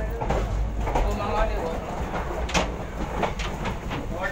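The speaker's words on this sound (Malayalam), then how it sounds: "ഞാൻ ട്രെയിനിലാണ്, ബോംബെയിലേക്ക് പോവാം." Inside a moving Gandhidham Express train, a steady low rumble with rhythmic rattling of the carriage runs under nearby talking.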